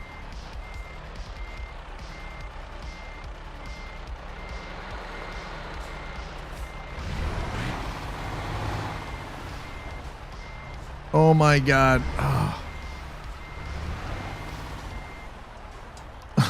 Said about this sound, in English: This truck sounds really rough.